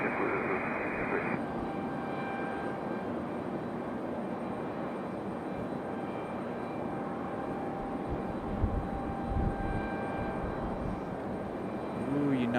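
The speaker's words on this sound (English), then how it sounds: "Nice touchdown for United." United airliner touching down at Raleigh-Durham International Airport, a broad steady jet-engine rumble heard from a distance, with voices and radio chatter mixed in.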